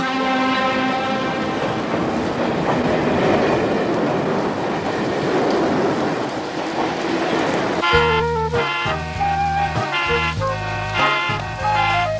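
A cartoon train rolls along with a steady rumbling clatter, then gives way to bright, rhythmic music-like tones over the last few seconds; no talking.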